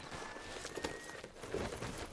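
Horse hooves walk with a soft, steady clip-clop in the video game Red Dead Redemption 2, set against a constant outdoor ambience at moderate distance, with no talk.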